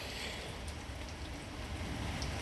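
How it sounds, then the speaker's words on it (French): Steady rain falls outdoors, a dense continuous hiss of drops at an even level throughout, with no voices heard. "je suis désolé, il pleut"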